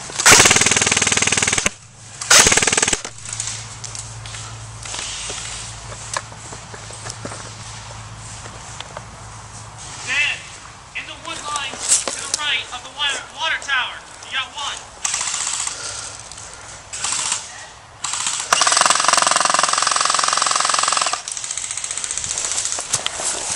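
Covering gunfire sounds across a wooded field during an airsoft-style operation, with rapid bursts and bursts of clatter, loud near shots, rustling movement and occasional voices.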